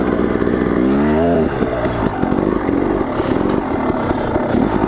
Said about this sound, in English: So my clutch is kind of feathered on the hill. I guess you could say I'm coasting up it.